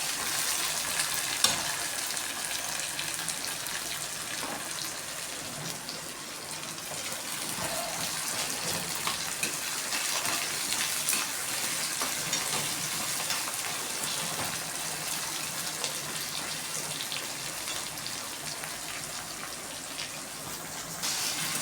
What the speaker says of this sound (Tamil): வெங்காயம் தக்காளியும் நல்லா வதக்கிக்கோங்க.